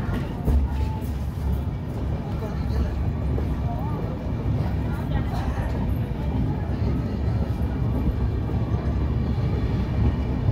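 The 18409 Sri Jagannath Express, a train with new LHB coaches, pulls into Jaleswar station with a steady low rumble and rattling, loud and continuous, with faint voices mixed in.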